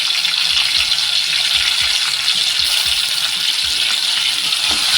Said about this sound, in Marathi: आता याच्यामध्ये एक बारीक चिरलेला टोमॅटो घालते मी